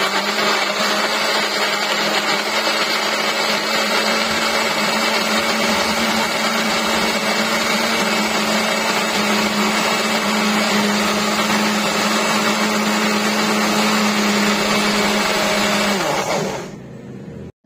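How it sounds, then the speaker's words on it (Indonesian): A loud electric blender grinds spices with a little water, whirring steadily for about sixteen seconds, its motor grinding with a constant hum before abruptly cutting off. "ini kita masukkan ke blender ya, karena aku mau menghaluskan dengan blender biar lebih cepat"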